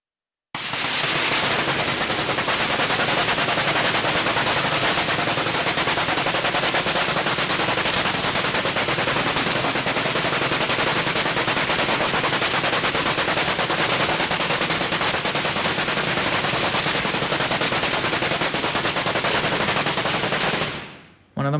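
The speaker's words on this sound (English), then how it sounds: "In the video of the firing, you can clearly see the behavior of the bang bang thrusters, as they are either fully on or fully off." Bang-bang control thrusters fire on an interceptor craft in a test, a loud, continuous roaring crackle held at full strength for about twenty seconds before cutting off abruptly.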